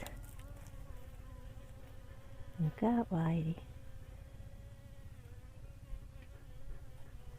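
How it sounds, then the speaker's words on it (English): Bees buzzing steadily nearby, a faint continuous hum, with a person speaking briefly over it. "Lots of bees."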